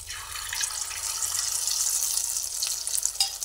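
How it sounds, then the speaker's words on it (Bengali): Bhetki fish pieces fry in hot oil, giving a steady hissing sizzle with small crackles and pops, fairly close and with no voices. "প্রত্যেকটা এইভাবে তেলের মধ্যে দিয়ে দিচ্ছি।"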